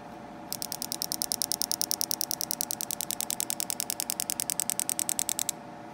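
A high-mileage fuel injector fires on a push-button test rig, heard close up as a fast, steady train of crisp clicks lasting about five seconds over a faint background hum, then cutting off.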